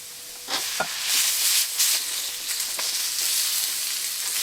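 Potatoes sizzle and fry in hot oil as they are stirred, a steady close hiss broken by scraping strokes and clinks of a spoon against the pan, with no talking.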